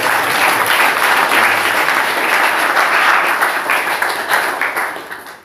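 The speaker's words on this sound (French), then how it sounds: "Applaudissez pour vous-même." A church congregation applauds, a dense, loud roar of many hands clapping that holds steady and then tapers off near the end, with no one speaking over it.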